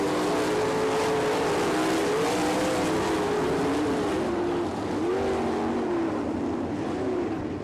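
USAC National Sprint Cars race on the Attica, Ohio dirt track at the Buckeye Nationals, their engines a loud, continuous, close roar whose pitch wavers and rises as they drive through the corners.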